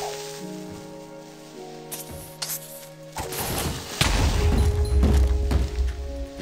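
A creeper blows up in Minecraft, a loud booming blast that swells over the last couple of seconds after scattered clicks and thumps of in-game action.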